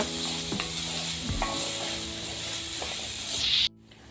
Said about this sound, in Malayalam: ആവശ്യമായ ചോറ് ഇട്ട് കൊടുക്കുക നല്ല പോലെ ഇളക്കി യോജിപ്പിക്കുക